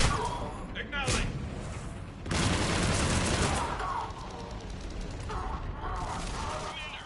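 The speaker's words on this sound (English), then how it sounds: "we're getting a lot of mortar fire" Mortar fire and gunfire in the video game Mass Effect 3, a dense continuous rumble of explosions and rapid shots filling the scene, with heavier blasts standing out and a voice speaking under the din.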